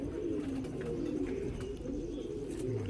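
Pigeons of the Mian Nazir bloodline coo on a rooftop loft in Sialkot, overlapping low throaty coos in a steady layered murmur, close and continuous, no talk.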